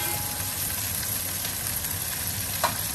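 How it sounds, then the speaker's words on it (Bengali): Onions fry in oil inside a covered pan, giving a continuous, even sizzle at close range with one brief clink near the end. "ঢেকে দিলাম, খুব তাড়াতাড়ি পেঁয়াজ ভাজা হয়ে যাবে"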